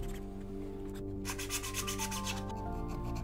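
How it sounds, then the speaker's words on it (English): Sandpaper rubbed by hand over a 3D-printed plastic casting pattern to remove layer lines, giving steady, close scratchy strokes with rhythmic bursts in the middle, over a constant low hum. "I'm just going to take some sandpaper and try to sand them away."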